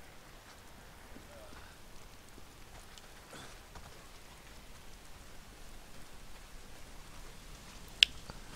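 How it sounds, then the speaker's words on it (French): Soft, steady rain from the video game Days Gone hisses throughout at a low level, with a sharp click near the end. "Et il se met à pleuvoir."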